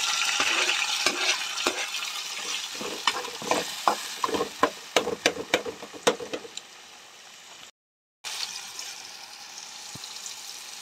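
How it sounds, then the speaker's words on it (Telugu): Cut tomato pieces fry and get stirred in a pan for wheat rava upma. A steady loud sizzle runs under sharp scraping clinks from the stirring, then fades. A brief silent gap follows, and the sizzle resumes. "కట్ చేసుకున్న టమాటో ముక్కలు కూడా వేసేసుకుంటున్నాను."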